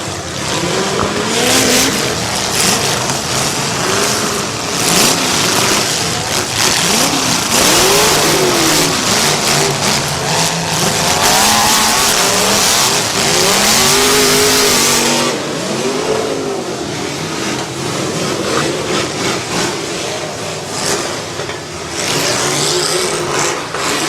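Smash It class demolition derby cars at an October fall cleanup derby race past with engines revving and roaring, a continuous loud drone of several mid-sized engines rising and falling as they accelerate.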